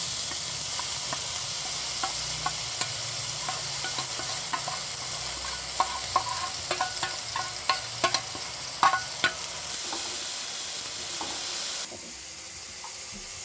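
Ground capsicum frying in hot oil, a constant hissing sizzle close by with a scatter of small popping crackles and spatters building through the middle, then the hiss settling lower near the end, with no talking.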